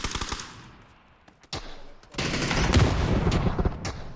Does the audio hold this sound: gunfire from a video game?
yes